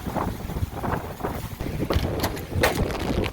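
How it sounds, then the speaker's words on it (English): Strong gusting wind during Tropical Storm Cristobal on the Alabama Gulf Coast at Dauphin Island, roaring steadily across the microphone with rising buffets near the end, no talking. "Wind's definitely picking up for sure."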